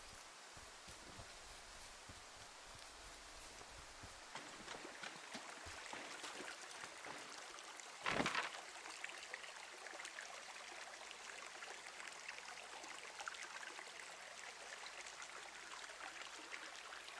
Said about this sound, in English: This should be the creek.